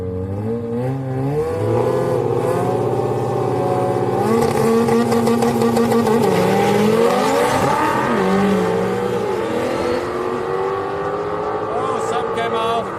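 A Honda Civic and a Mustang drag racing at a Houston raceway street night, loud engines rising in pitch through gear changes as the cars accelerate, with a voice talking over the roar.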